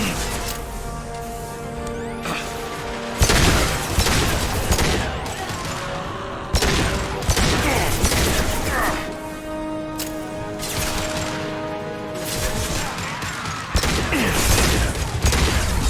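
Rapid bursts of gunfire crackle in a Mass Effect 2 firefight, loud repeated volleys with sharp impacts and mechanical clatter between them.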